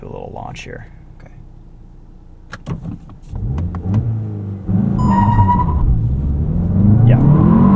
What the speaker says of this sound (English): We'll do a little launch here.